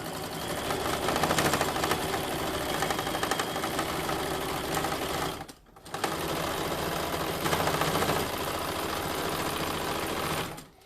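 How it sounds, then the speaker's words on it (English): A sewing machine runs steadily while back stitching a tote bag, a loud continuous mechanical whir that pauses briefly midway, then resumes and stops near the end. "I'm going to back stitch"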